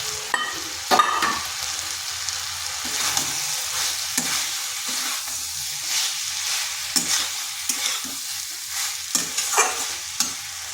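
Eggplant and potato stir-fry in a pan for a vegetarian bhuna, with a steady close sizzle broken by frequent sharp scrapes and clacks of a spatula stirring. No one speaks.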